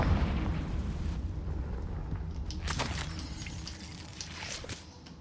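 A Confringo fire spell explodes in the Hogwarts Legacy video game, giving a loud burst with a crackling, booming tail. Low rumbling game ambience runs underneath.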